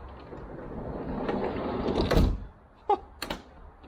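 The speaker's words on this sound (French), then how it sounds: "J'ai jamais fermé une porte aussi facilement d'un coup." The sliding door of a 1973 VW Westfalia camper van rolls along its track with a rumbling slide, then shuts with a solid thunk and a few brief latch clicks.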